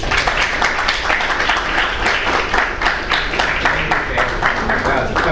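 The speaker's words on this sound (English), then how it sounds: "give him the warmest applause" An audience welcomes a lecturer at a public lecture with warm applause, dense rhythmic clapping with steady pulses throughout the short stretch.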